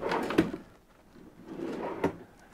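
Two drawers in a new caravan slide and bump shut, each with a soft scrape ending in a sharp knock about 1.6 seconds apart, close by and otherwise quiet.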